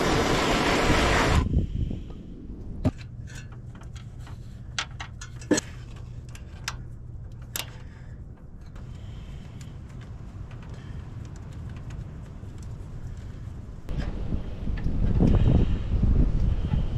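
Cold wind gusts outdoors, a broad blustery rush that swells loudly at the start and again near the end, with a steady low hum and scattered small ticks and clicks between the gusts.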